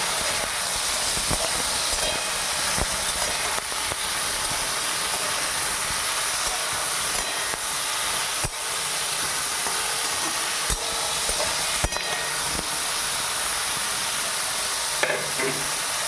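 Vegetables and spices for sambar frying in a pan produce a steady, loud, even sizzle and hiss lasting throughout, with occasional small clicks from stirring and no voices.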